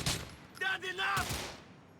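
Gunfire aimed at soldiers in the video game GTA 4: a short burst of rapid shots followed by a quieter tail, fairly faint.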